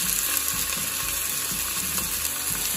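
Pieces of stuffed beef braciole sizzle in hot oil in a pan on medium heat, a steady bright hiss with faint rhythmic ticking and crackles underneath, close and continuous.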